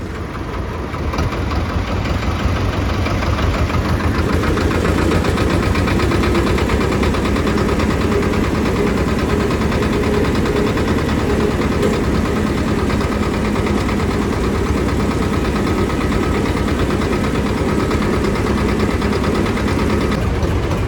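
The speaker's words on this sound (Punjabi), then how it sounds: "ਹੁਣ ਟਰੈਕਟਰ ਦੂਜੇ ਤੀਜੇ ਗੇਅਰ 'ਚ ਜਾਣਾ ਸਾਰੇ ਦਾ" A Swaraj 855 tractor rolls along a broken road in a tractor rally, its heavy diesel engine chugging steadily and loudly in gear, a continuous close, low throbbing drone with no pauses.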